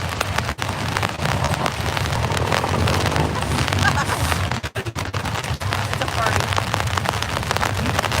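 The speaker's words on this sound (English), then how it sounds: "I don't want my camera to get rained on." Rain falling outdoors, a dense, steady patter on surfaces with a few sharp crackling bursts and brief dropouts, continuous and fairly loud.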